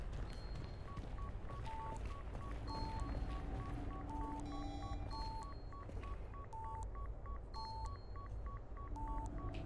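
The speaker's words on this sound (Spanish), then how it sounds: "que pita el dispositivo, claro" A device in the Daymare 1998 video game gives repeated short electronic beeps in a steady rhythm over a constant low ambient game drone, with other faint tones layered in.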